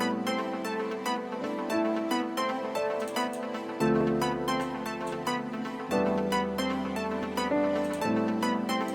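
Avalon synth preset from FL Studio's Flex plugin in an Afro House track, a bright sustained chordal pad with rhythmic plucked accents and shifting low bass notes, steady and full, playing alone without voices.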